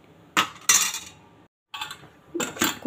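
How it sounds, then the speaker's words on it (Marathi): A pressure cooker lid is fitted onto the pot while jeera rice is cooking, producing a few sharp metallic clanks and scrapes in bursts separated by brief silences. "मी कुकरचं झाकण लावून घेऊन"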